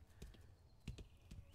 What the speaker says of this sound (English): I'm just working with the horses.